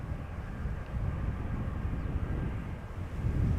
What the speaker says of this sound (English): Right now, Embraer 190 arriving from Prague